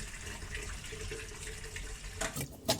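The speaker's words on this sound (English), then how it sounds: "Clean the pork belly with water." Water runs steadily from a tap, with splashing and a few sharper clatters near the end as pork belly is rinsed under the stream.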